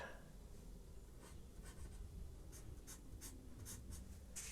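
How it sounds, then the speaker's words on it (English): A thick-nibbed pen draws and fills in black areas of a Port Vale football club badge, a quiet, close scratching in short repeated strokes over faint background hiss. "And it'll allow us to fill in with this thicker nib all of the black that we need."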